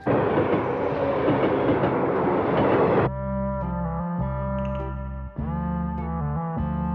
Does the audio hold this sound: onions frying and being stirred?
no